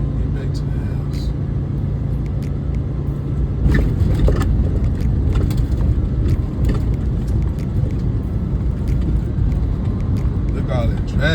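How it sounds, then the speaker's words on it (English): Steady road traffic rumble from inside a truck cab on a drive home, a continuous low drone with passing vehicle noise, voices talking over it. "Look at all that traffic over there though."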